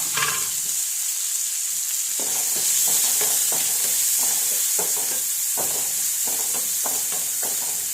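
Sliced onion fries in hot oil with cardamom, giving a constant bright sizzle with a stirring rhythm of scrapes and clicks repeating every half second or so, close and fairly quiet, with no voices.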